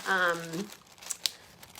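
Plastic sandwich bags crinkling in a kitchen while a lunch is packed, short rustles and crackles right after a voice, fairly quiet and close.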